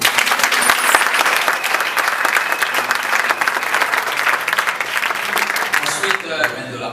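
Wedding guests clap for the newly married couple, a dense, steady burst of applause from a crowd filling the room, holding loud and even for several seconds before tapering off at the end.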